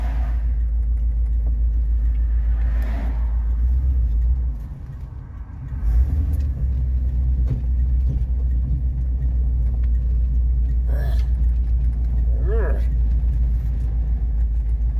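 A 1959 Ford Fairlane 500 driving on its first outing in 17 years, a steady low engine rumble throughout, with brief dips and faint voices over it.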